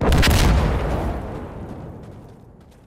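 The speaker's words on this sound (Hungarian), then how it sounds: "A robbanásra ne figyeljetek." A video game explosion blasts in loud and full at the start, then its rumbling tail fades away over the next couple of seconds, with no voices.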